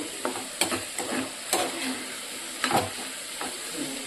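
Yardlong beans frying in a pan give a steady sizzle, broken by periodic scraping strokes from a stirring utensil, close and fairly loud with no voices.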